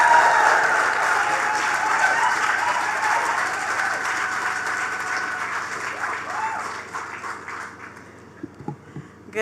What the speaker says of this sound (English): Ladies and gentlemen, give her a round of applause, Mrs. Nicole Daniel.